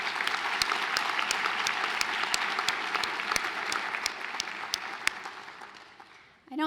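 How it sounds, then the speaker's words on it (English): An audience at a community college foundation scholarship reception applauds board members with a steady, loud round of clapping, a few sharp individual claps standing out, fading slightly toward the end. "If we could have a round of applause for them."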